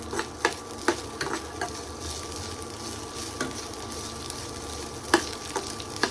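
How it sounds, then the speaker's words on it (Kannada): Hot oil sizzles as food browns in a pan, with a steady hiss and a few sharp spatula scrapes and taps stirring it, close up and with no talking. "ಬ್ರೌನಿಶ್ ಬರೋ ಥರ ಫ್ರೈ ಮಾಡ್ಕೋಬೇಕು"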